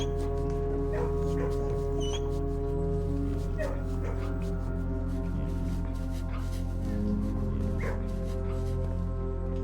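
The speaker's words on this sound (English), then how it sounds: "One of the dogs seemed to have gotten out." Dogs bark and yip faintly in the video game Blue Prince, scattered short calls over a steady, humming in-game ambience, with no voices.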